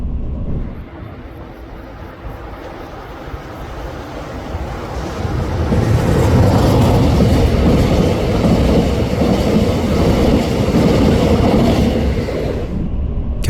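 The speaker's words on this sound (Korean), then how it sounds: "곧이어 열차는 칠곡군 관호 1리 인근을 통과합니다." A Seoul-bound Mugunghwa passenger train rolls past Gwanho 1-ri in Chilgok County on the Gyeongbu Line. A moderate rumble swells halfway through into a louder, sustained roar with rhythmic wheel clatter, then drops away at the end.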